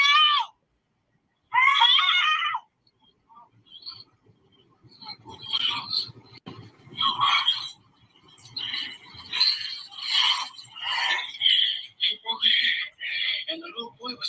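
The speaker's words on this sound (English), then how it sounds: "the little boy was screaming" A little boy screams shrilly in bursts, then keeps on in loud, wavering cries and shrieks, with muffled rustling underneath.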